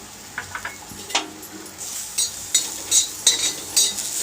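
Chopped ginger dry-roasting in a pan alongside poppy seeds, with a soft steady sizzle punctuated by a series of sharp scraping clinks from a spatula stirring, close by.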